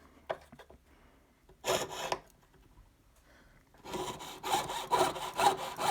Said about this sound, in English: And then we're just going to cut a little bit more wax if it's sticky.